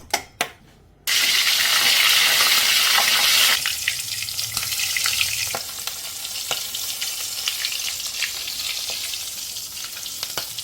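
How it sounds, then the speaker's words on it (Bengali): Prawns cooking for a cream prawn dish hiss and sizzle steadily in a pan after a couple of sharp knocks, with stirring clatters and scrapes scattered through the continuous frying noise. "আমি চিংড়ি মাছটাকে রান্না বসাবো"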